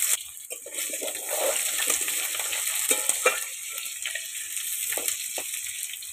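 Cut potatoes frying in oil in a wok, a steady close crackling sizzle with scattered pops and the scrape of stirring, no voices.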